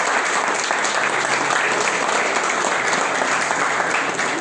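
Strong, steady applause from a church congregation during a Spanish-language sermon, dense clapping filling the space at an even level for the whole stretch with no voices over it.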